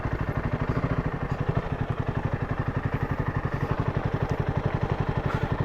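A motorcycle engine idles steadily at close range with a rapid, even low-pitched throb at a hillside property, with faint clatter mixed in and no talking.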